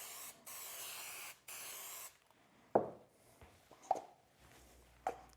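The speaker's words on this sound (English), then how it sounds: "I can spray my plywood." A spray gun applies a finish coat to plywood in two long, loud hissing bursts separated by a brief gap, followed by quieter scattered knocks and handling sounds.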